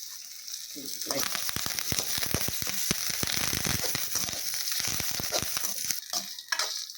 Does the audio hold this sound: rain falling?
no